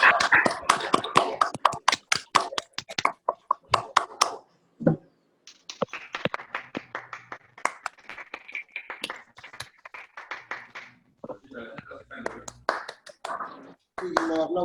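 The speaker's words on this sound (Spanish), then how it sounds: "Sí, los aplausos." An audience at a medical symposium on pediatric cataract and glaucoma surgery claps for the doctors, scattered individual claps swelling and fading, with a voice speaking over them.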